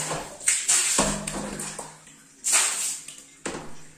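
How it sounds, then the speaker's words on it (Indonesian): Water splashed from a scoop onto bathroom walls and floor for cleaning: several separate sloshing splashes at irregular intervals, close and fairly loud, each trailing off into dripping quiet. "Selanjutnya ini saya siram-siram untuk bagian dinding dan juga lantainya ya teman-teman"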